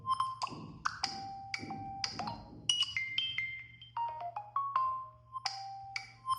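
A Samsung Galaxy S26 Ultra phone playing notification sound previews, a string of short, bright electronic chimes and tones in quick succession, faint and close, with no voices.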